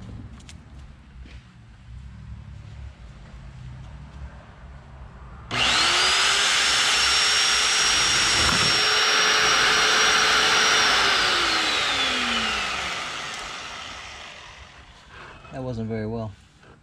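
A power tool cutting aluminum for a connecting rod balancing stand spins up abruptly into a loud, harsh whine with a rising and falling pitch, holds for about six seconds, then slowly spins down; a quiet hum precedes it.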